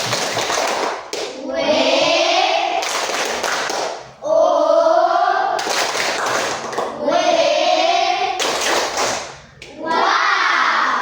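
A primary school class performs the Indonesian 'tepuk wow' cheer for a classmate, with bursts of rhythmic group clapping alternating with children's chanted voices, loud and close in a classroom.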